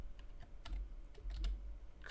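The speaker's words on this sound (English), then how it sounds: "Go ahead and type in your portal command." Quiet, irregular keystrokes clack on a computer keyboard as a game portal command is typed, with a low steady hum underneath.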